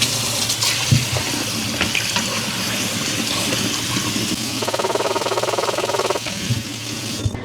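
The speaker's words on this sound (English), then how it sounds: "the first thing we're gonna do is we're gonna rinse our cranberries" Cranberries are rinsed under a running kitchen tap, a continuous splashing stream with bursts of rattling and sloshing as the berries are stirred by hand, close by and without talk.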